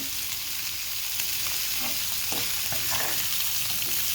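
Onions fry in oil for a bean and fish mash with a continuous close crackling sizzle, with scattered soft pops and stirring knocks throughout.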